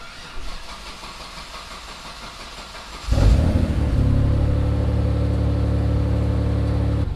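A Mitsubishi 3000GT VR4 engine cranks and fires up, catching abruptly after a quiet stretch, then settling into a loud, steady idle.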